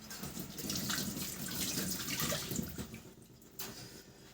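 Tap water runs steadily into a sink, a broad splashing hiss that fades near the end, with no talk over it; the tap is being checked for hot water while making mozzarella.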